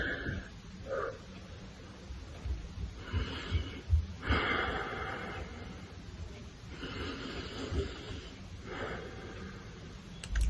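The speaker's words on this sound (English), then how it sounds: "So breathe in and out 3 times." Slow, deep breaths drawn in and let out several times close to the microphone, soft airy wheezing inhales and exhales in a relaxed rhythm over low background hiss, with no talking.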